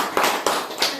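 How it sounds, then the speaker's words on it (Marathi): A few slow, separate hand claps, about three distinct slaps spaced unevenly, from people at a gathering in a countryside village, with a faint background hum between them. "हे टाळ्या वाजवा सगळ्यांनी."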